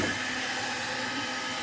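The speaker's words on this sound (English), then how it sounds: "Put it on high, hair dryer," A hair dryer runs on its high setting, blowing into a Frigidaire Gallery fridge to thaw a frozen tube, giving a steady, loud, close whirring rush with no talking.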